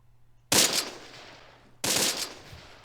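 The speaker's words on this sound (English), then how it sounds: "Got some gunfights going on." Two sharp bursts of video game machine-gun fire from the WWII strategy game Close Combat, each a sudden loud crack that trails off into a decaying rattle, with a quiet gap between them.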